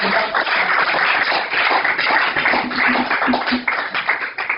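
A church congregation claps together during a Sunday service, a dense, continuous wash of many hands with a faint sustained tone underneath, loud and steady throughout.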